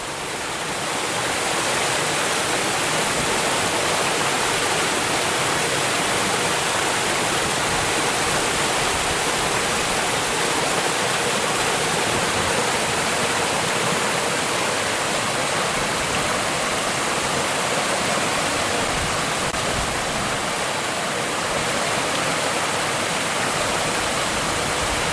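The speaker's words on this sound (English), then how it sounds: "Check out the waterfall. Let's listen to this for just a minute" Waterfall on the Bart DeWitt Park riverwalk in San Angelo roars as a steady, dense rush of falling water, loud and unbroken throughout with no voices over it.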